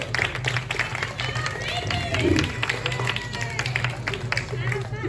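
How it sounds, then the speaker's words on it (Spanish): Applause and clapping from an audience at an interview event with Dragon Ball Z Kai voice actors, with crowd chatter and a few cheers mixed in over a steady low hum. "un fuerte aplauso para Eric."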